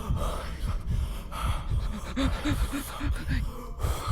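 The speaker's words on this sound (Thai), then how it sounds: "หายใจเหมือนคนจะตายอะเมื่อกี้เนี่ย เสียงตัวละครแม่ง จะตายแล้ว" Heavy, ragged panting from a character in a horror game about animatronics, a run of quick breaths with gasping catches through the middle, close and fairly loud over a dense, noisy game background.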